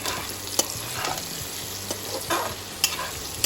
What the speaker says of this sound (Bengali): 2-3 মিনিট পরে আমি একটু খুলে নেড়ে দেবো